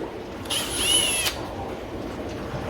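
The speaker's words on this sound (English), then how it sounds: "So I've got my drill, just going to drill it out." A power drill whirs briefly at high speed for under a second, drilling out a fitting on a fish tank airlift, a sharp whining burst against a quiet room hum.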